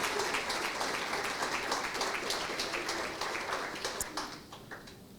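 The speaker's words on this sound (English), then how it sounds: "Please give them a round of applause, ladies and gentlemen." Applause from a banquet audience for the final award recipient at an anniversary gala, a dense wash of many hands clapping that holds steady, then thins and fades toward the end.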